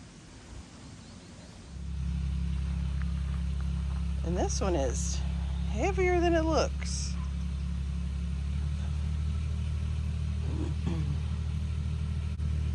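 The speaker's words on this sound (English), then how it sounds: "he's going to come with the tractor and we're going to put it in the bucket" A heavy tractor engine starts up and idles with a steady, low droning rumble, close and constant, while someone speaks briefly over it.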